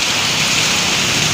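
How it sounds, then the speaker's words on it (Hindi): Heavy rain pours outside during a storm with strong wind, a dense, steady hiss of drops hitting surfaces close by. "बारिश आने लग गई है बाहर ये।"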